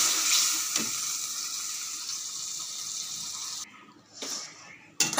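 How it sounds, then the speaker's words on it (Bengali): Water poured into a pan of frying ridge gourd and potato curry, a loud close sizzle that fades toward the end, broken by brief bursts of splashing and hissing. "এবার আমি পরিমাণ মতো জল দিয়ে দেবো।"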